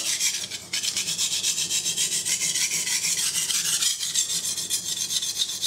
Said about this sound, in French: Essayez de garder le couteau bien perpendiculaire à la pierre